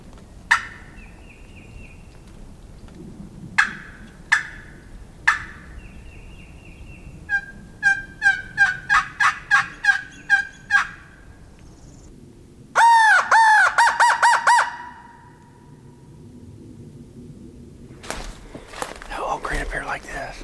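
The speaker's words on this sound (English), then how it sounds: "one gobbled there and one gobbled there." Wild turkeys gobble during the Alabama spring turkey season opener, a string of loud rattling gobbles, some repeated in quick bursts and one sharp sequence close by, mixed with other bird calls and brief quiet talk in the woods.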